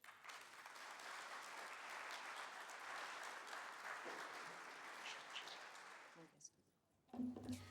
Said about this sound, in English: So please give them a warm round of applause as they come up to the stage.